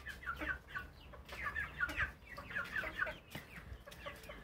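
A young chicken clucks in quick, soft chirpy bursts, repeating irregularly at close range against a quiet farmyard background.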